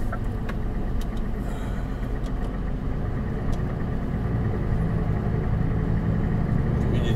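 Road traffic hums continuously nearby, cars rolling past in a steady, loud engine drone with no distinct gaps between vehicles.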